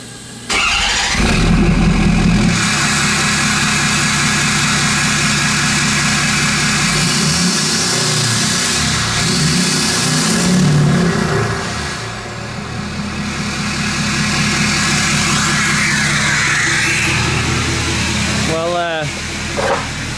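A 2011 Ford F350 with a 6.7 Powerstroke diesel, just fitted with a replacement engine, runs loud and close for about twenty seconds with a steady rough idle, shifting engine note and brief revs near the end, with background voices.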